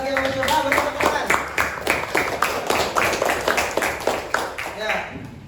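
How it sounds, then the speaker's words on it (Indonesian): An audience of students in a classroom claps together, a steady burst of many hands beating in a fairly even rhythm for several seconds before thinning out. "Beri tepuk tangan"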